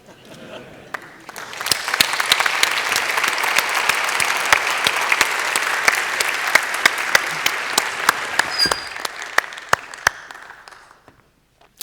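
A conference audience applauds a speaker, dense steady clapping building after a soft start, holding loud and near for about ten seconds, then stopping abruptly.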